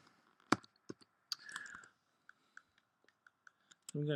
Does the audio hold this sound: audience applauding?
no